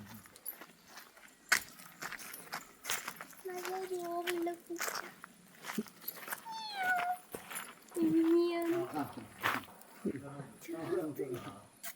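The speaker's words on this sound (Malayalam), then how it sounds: "നല്ല രോമുള്ള പൂച്ചാന്ന്" A furry cat meows several times up close, short rising and falling cries scattered between people talking quietly nearby at a family home.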